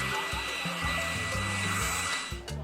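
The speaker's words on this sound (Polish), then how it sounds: "Potrzebuje suszarki. Musi go trochę ogrzać." A hair dryer blows steadily and fairly close, with a continuous whirring rush that wavers slightly in pitch and cuts briefly near the end.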